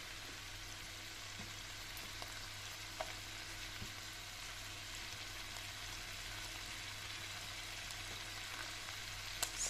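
Chopped onion and green peppers sauté in a pan, a steady soft sizzle with faint stirring scrapes and occasional light clicks, continuous and close without talk.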